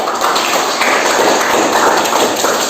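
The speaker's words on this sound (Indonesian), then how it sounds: "Kasih aplaus dulu." A classroom of students applauds during an Islamic religious studies lesson, producing dense, continuous clapping that fills the whole moment, loud and close, with no pauses.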